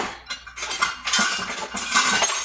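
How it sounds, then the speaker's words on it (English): A measuring spoon picked up among kitchen utensils, several close metallic clinks and clatters in quick succession over a couple of seconds. "So let's get our measuring spoon"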